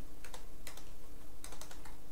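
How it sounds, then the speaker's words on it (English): Quick bursts of clicking keystrokes on a computer keyboard, a few clustered taps near the start and a faster run later, close and fairly quiet over a steady background hum. "sorry about this typing"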